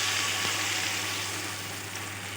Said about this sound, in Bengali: এবার আমি এতে দিয়ে দিচ্ছি কিছুটা পরিমাণ জল।